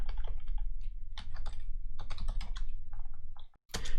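Quick bursts of typing on a computer keyboard as a console command is entered, close crisp key clicks in uneven clusters with short pauses, ending in a sharp louder tap.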